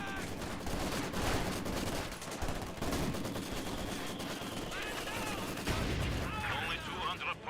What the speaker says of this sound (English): Conscripts get suppressed by this MG42.